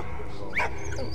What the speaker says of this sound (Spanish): el perro traidor que todos adoramos.